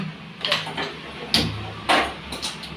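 A pressure cooker lid is closed in a home kitchen during sambar cooking, making a few sharp metallic clanks and clicks spaced over a couple of seconds, fairly quiet and close.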